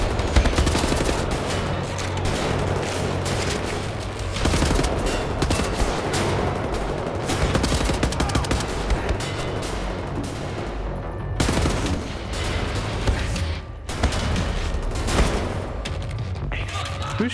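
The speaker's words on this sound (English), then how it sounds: "Who's shooting me?" Dense, continuous video game gunfire crackles and pops for many seconds, a near-constant barrage of overlapping shots with only brief dips, loud and busy throughout with no clear pauses.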